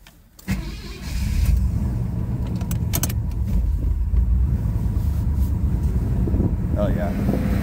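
A 1981 Pontiac Turbo Trans Am runs rough after stalling, its engine chugging unevenly with low rumbling and intermittent clunks and clicks close by, a steady loud roar filling the cabin.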